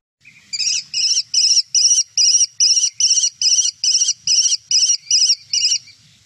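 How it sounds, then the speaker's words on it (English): An American kestrel calls in a quick, even series of about a dozen sharp, high 'klee' notes, loud and near, with no other sounds around it. "And here's how the American kestrel sounds."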